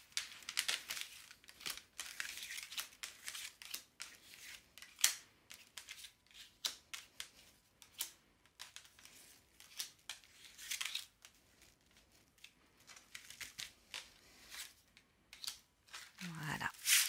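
A tarot deck is shuffled again before a nine-card spread, with soft, rapid riffles and papery flicks repeating close by at low volume, broken by brief pauses.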